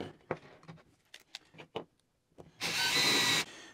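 Scattered handling knocks and taps, then a power drill whirs loudly for about a second as it drives a screw into wood.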